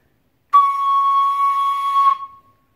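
One breathy, whistle-like beginner flute tone held steadily for about a second and a half before fading out, loud and clear against silence.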